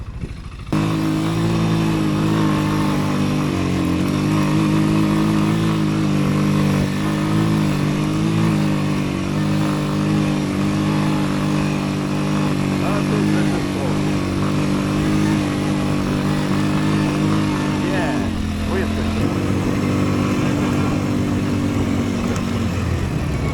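Loncin LX200ATV-U quad bike engine running steadily through a forest ride, a loud continuous drone with shifting revs and a brief dip near the end.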